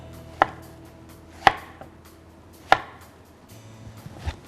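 Three sharp, separate knife chops through chicken on a cutting board, spaced about a second apart, close and distinct, followed by a softer thud.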